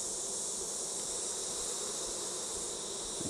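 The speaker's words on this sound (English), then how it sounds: "shaking the bees off again, brushing the bees in" Dense, steady buzzing of many honeybees at close range as they are shaken and brushed off a hive frame, a continuous high drone with no voices.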